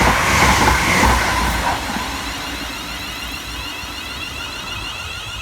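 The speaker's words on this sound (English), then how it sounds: "Passing next through the station will be 380-111, working 1K22 for Scotrail from Ayr through to Glasgow Central." Scotrail Class 380 electric train 380-111, on an Ayr to Glasgow Central service, runs through Lochwinnoch station with a loud rushing roar that eases into a steady rail hum and faint wheel clatter.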